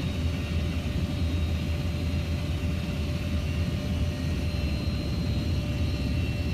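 A Cessna light aircraft takes off, a steady droning engine roar holding constant throughout at moderate distance, with no voices over it.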